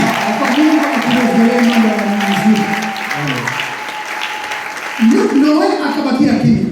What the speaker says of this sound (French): Est-ce qu'on peut maintenant acclamer Jésus?